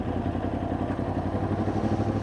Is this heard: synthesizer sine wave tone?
no